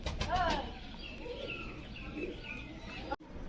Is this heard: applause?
no